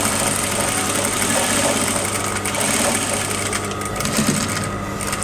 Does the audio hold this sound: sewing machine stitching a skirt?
yes